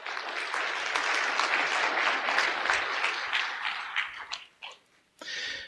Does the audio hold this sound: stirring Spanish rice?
no